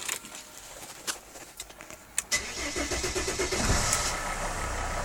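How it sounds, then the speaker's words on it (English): A Mercedes ML270 engine starting: a few clicks, a cranking whir, then the engine catches around halfway through and settles into a loud, close, rough idle. "Let me start the car up."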